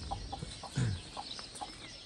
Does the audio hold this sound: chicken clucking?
yes